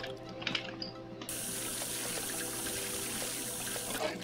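Water pours in the video game SuchArt as a steady, close hiss of running liquid that starts abruptly after a moment and continues evenly before cutting off.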